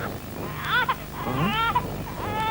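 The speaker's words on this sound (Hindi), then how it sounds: "जंगल में बच्चे की रोने की आवाज।" A baby cries in a forest with several rising and falling wails, close and fairly loud, over a steady low background rumble.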